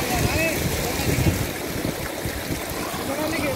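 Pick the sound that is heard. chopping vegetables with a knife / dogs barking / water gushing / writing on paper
water gushing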